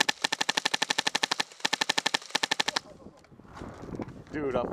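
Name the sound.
airsoft gun firing through a flash hider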